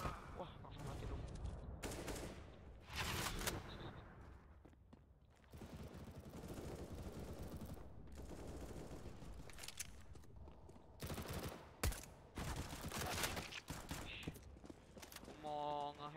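Counter-Strike: Global Offensive gunfire, including pistol shots, crackles in repeated sharp bursts and volleys against in-game noise, with players chattering over the action.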